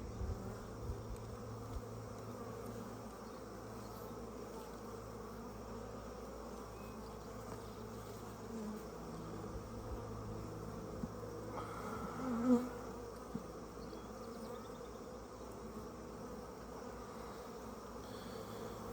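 Honeybees swarm at the entrance of a hive while bringing in pollen, a dense, steady buzzing that holds at an even level throughout, with one brief louder passing bee midway.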